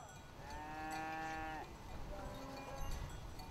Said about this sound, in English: In the morning, the cows go out to the pasture.